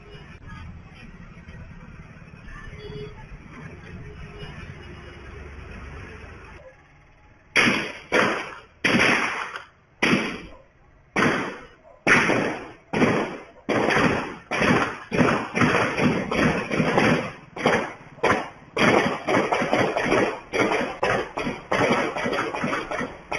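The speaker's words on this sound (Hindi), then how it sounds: "किस ताबड़तोड़ अंदाज में यहां पर गोलियां चल रही हैं।" Rapid gunshots ring out in a dense, irregular volley of sharp cracks after a stretch of muffled background noise, loud and continuous for many seconds; about 30 rounds fired in the shooting of a singer.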